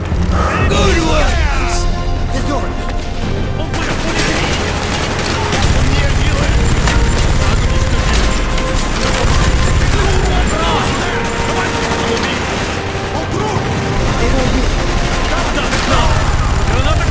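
A minigun fires in Call of Duty Black Ops, a loud continuous rapid-fire chatter with mechanical clatter and scattered other gunfire, set in an escape from the Vorkuta prison camp, with shouting voices over it.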